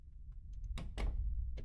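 A locked door being tried in the horror game Reminiscence, producing a few close wooden thunks and rattles, two heavier knocks in the middle, then a lighter one.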